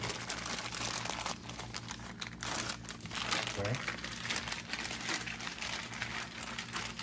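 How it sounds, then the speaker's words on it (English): Plastic bag of chicken marinating in hot sauce being squeezed to push the air out, giving close crinkling and rustling throughout, with talking over it. "Make sure you take all the air out of the bag as, or as much as you can get."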